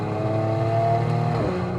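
A Mercedes-AMG C43 in Sport Plus mode revs hard under acceleration, a loud, close, sustained engine roar whose pitch climbs and then dips briefly as a gear changes near the end, with no voices.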